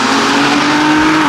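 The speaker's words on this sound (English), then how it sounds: "Look how much louder his car is than mine." A loud car engine, a modified BMW F80 M3 on air suspension, holds a high, steady rev close by, a droning roar with a strong tonal whine that dips slightly at the end.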